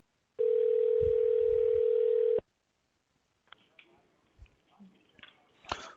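A phone call to a suspected scam number gives a single long, steady tone for about two seconds, then a pause and faint clicks and handling noises as the line connects.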